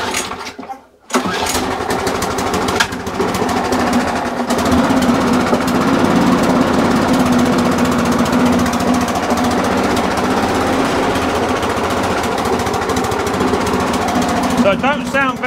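Briggs and Stratton lawn mower engine with a carburetor under repair pull-started, catching after a brief gap and then running in a loud, close, rough rattling drone that continues steadily to the end.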